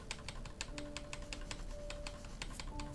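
Computer keyboard keys pressed in a quick, irregular stream of crisp clicks, close and fairly quiet, over a low background hum.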